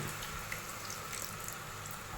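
Water pours steadily into a simmering tomato egg curry in a pan, a continuous close splashing rush lasting a couple of seconds with no voices.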